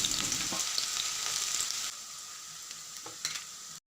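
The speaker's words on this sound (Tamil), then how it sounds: "ஒரு கடாயை அடுப்பில் வச்சு தேவையான அளவு எண்ணெய் ஊற்றி முதல்ல வெங்காயத்தை போட்டுக்கலாங்க" Loud oil sizzle as onions fry in a wok, a steady hiss that drops to a quieter crackle partway through, with a few clinks.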